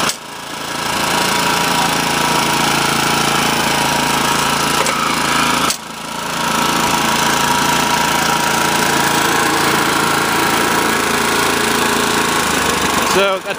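A Honda HR214 walk-behind lawn mower engine runs steadily and loudly close by, with a brief dip midway before the continuous drone resumes.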